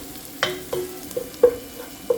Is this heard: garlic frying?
yes